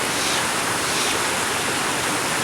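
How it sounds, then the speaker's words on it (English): Steady, dense roar of a waterfall in a forest gorge at The Narrows, loud and continuous with no other sounds over it. "one of the key sites of a waterfall"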